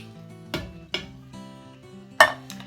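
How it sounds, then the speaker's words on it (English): A spoon stirs chili with tomatoes and tomato sauce in a pot, scraping and clinking against the sides three times in uneven strokes, close and fairly loud with no talking. "I'm gonna give it a quick stir"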